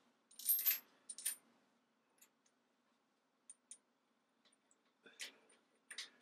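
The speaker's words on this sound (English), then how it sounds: "Put the T-nuts back in." Steel T-nuts being slid back into the slots of a milling machine table, a handful of sharp metallic clinks and ticks spaced irregularly with quiet gaps between, close and fairly faint.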